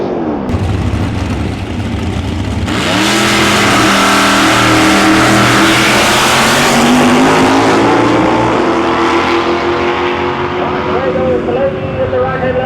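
Mustang drag racing car launching at Tarlton Raceway, engine rising steadily in pitch as it accelerates hard down the strip, loud and continuous, with crowd and commentary noise beneath.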